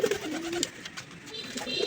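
Domestic pigeons cooing in an enclosed loft on a morning, soft low coos repeating through the clip with some faint background activity.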